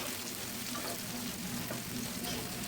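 Chopped onion and green chili frying in oil with whole cumin seeds for a hilsa fish curry: a continuous, even sizzle with fine crackling texture, close and steady throughout with no talk.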